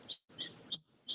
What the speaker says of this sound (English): I know there are people who wants to listen birds, but no, not right now